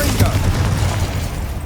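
Confringo blasting spell explosions in Hogwarts Legacy, a dense run of booming blasts over steady low rumble, loud and continuous with a sharp burst near the start.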